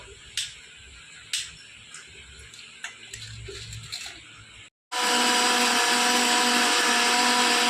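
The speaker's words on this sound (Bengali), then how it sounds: "কিছু পেঁয়াজ মিক্সারের ভিতর দিয়ে দেবো" A kitchen mixer grinder blends onion with ginger, garlic and chillies: a few sharp clicks and light handling knocks, a brief pause, then the motor starts abruptly into a loud, steady, high whirring roar.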